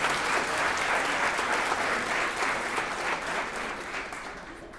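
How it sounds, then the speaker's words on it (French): A gala audience applauds the award winners with a dense, steady wash of clapping that holds loud and even, then tapers off slightly near the end. "je pense qu'ils méritent encore une bonne main d'applaudissements"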